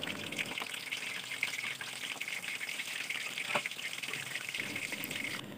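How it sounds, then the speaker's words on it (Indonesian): Tofu (tahu aci) fries in hot oil, giving a soft, steady bubbling sizzle that stays faint and close, with no talking over it. "Goreng semua tahunya sampai habis ya teman-teman."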